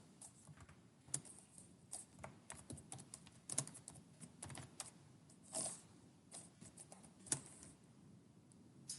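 Computer keyboard typing: a steady run of soft, quick key clicks at close range, fairly quiet, with a few slightly louder taps scattered through.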